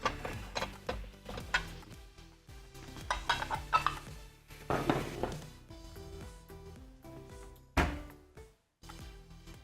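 Cooked chicken vegetable macaroni is scooped out of the pot with scrapes and sharp metallic clinks of a spoon against the pan, coming in irregular bursts over background music.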